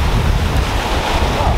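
Rolling water and surf at the Gamtoos river mouth, a steady loud rush of waves with wind buffeting the microphone, no voices.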